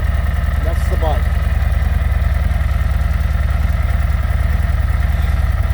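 A Harley-Davidson Road Glide motorcycle idles with a steady, loud low-pitched throb that carries evenly throughout. A brief faint sound is heard near the start.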